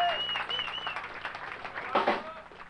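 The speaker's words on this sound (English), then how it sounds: "Give him a round of applause, man." Concert crowd at a live hardcore show in Albany claps and cheers briefly, a short scattered burst of applause with a swell near the end, mixed with shouting voices and lingering stage tones.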